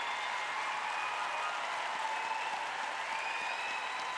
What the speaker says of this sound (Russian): Ну, хоть тут он наконец-то аплодировал в полную.